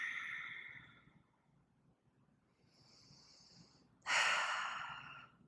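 Deep breathing during a yoga hip flow, a long exhale at first, then quiet, a softer breath, and finally a loud, close, rushing inhale or sigh at the end.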